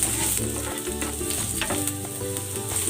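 Ginger sautéing in hot cooking oil for a chicken feet dish, a dense, continuous close sizzle and crackle with stirring throughout, no talking.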